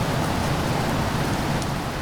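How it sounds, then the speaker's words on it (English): Steady heavy rain in the BeamNG driving game, a dense, even hiss of falling water that stays loud and constant throughout, with no voices. "This is definitely some rain,"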